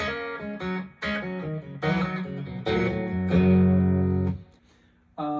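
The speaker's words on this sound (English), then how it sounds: "Otherwise, you're just hearing my deluxe reverb." Electric guitar played through a late-1965 Fender Deluxe Reverb amp driving a Morgan cabinet: a handful of ringing chords and held notes with a short gap near the end, clean and close, no voices.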